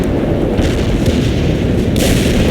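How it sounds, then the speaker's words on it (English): Video game artillery barrage on a battlefield, a dense continuous roar of heavy booms and rumbling explosions, very loud and sustained throughout with a sharp burst near the end. "Launching the barrage. Artillery strike on the way."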